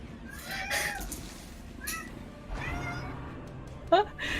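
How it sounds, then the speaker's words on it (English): A hungry house cat meows several times indoors, the loud drawn-out cries coming from nearby, mixed with someone talking over game commentary. "Someone's got a hungry cat."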